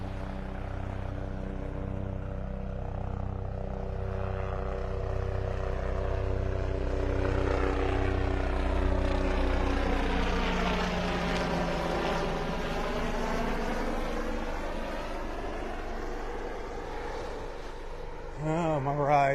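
A helicopter flies over a beach in North Naples, Florida, its loud rotor thudding and engine drone sweeping closer and passing overhead, with pitch shifting as it goes by, and a voice speaks briefly under it.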